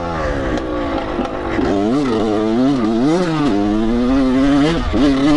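A dirt bike engine revs and bogs while riding through deep sand, loud and close with a wavering, rising and falling pitch as the throttle surges in and out.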